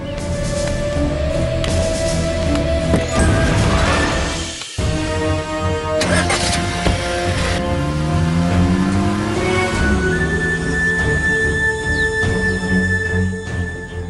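A car drives off in a Tamil TV drama scene, its engine rising under loud dramatic background music, with a brief break partway through before the music swells again.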